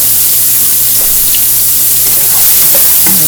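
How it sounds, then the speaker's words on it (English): Onions and peppers sauté in a pan for breakfast bowls, giving a loud, constant, close hiss of sizzling with a few faint clicks on top. "Saute those up some more."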